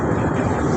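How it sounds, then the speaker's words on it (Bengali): A very long freight train hauling stone rolls past, a dense low rumble that fills the short moment steadily and loudly with no pauses. "বিশাল বড়, মনে হচ্ছে 1 কিলোমিটার এত বড় একটা ট্রেন"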